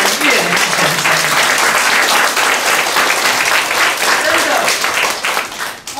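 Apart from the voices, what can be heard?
audience applause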